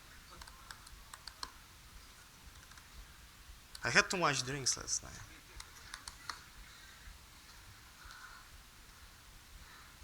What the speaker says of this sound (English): Why am I so bad at typing stuff?